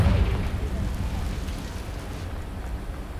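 A deep, rumbling blast from the Confringo fire spell in Hogwarts Legacy booms loudly at the start and then fades into a long, noisy roar.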